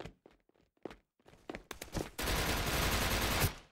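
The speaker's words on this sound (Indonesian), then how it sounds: "Ada yang nembak dari belakang?" Burst of sustained automatic gunfire in the Indonesian mobile shooter Wardeka Edonisia, starting after a few scattered footsteps and shots, then a loud continuous rattle of rapid fire lasting over a second before cutting off.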